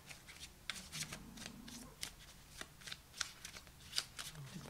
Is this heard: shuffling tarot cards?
yes